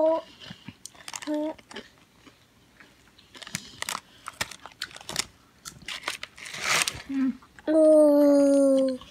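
Crunchy chewing of Taco Bell nachos close to the mic, with bursts of crackling bites between quiet voices, ending in a short sung tone.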